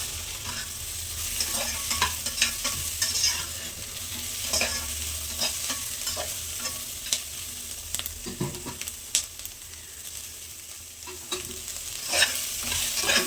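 Cinnamon, pepper and cloves frying in a pan for mutton keema, a continuous close sizzle broken by frequent scraping stirs of a spatula, steady and moderately loud with no voices.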